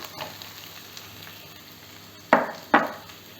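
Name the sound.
onions sautéing in a pan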